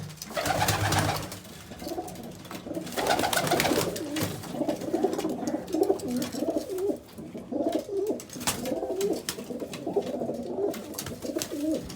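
Pigeons coo in a coop, a continuous chorus of low rolling coos from several birds, close and layered, with some soft rustling and no talking.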